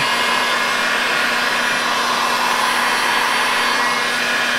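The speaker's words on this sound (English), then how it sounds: "Just got the heat gun, and I'm moving everything around with the heat gun." Steady, loud whooshing airflow from a heat gun blown across wet epoxy on a faux marble RV countertop, a constant drone with a faint hum beneath, running alone throughout.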